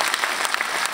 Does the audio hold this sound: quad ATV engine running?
no